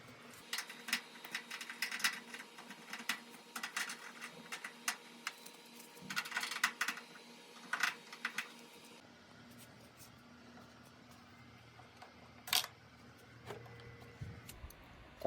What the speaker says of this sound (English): Now I start to remove the front panel by removing the top 2 screws.